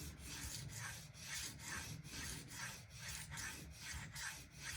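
A steel knife blade is stroked across a fine 650 grit pdTools diamond bonded stone. Soft, rhythmic rasping strokes repeat about every half second, quiet and close, with no talking.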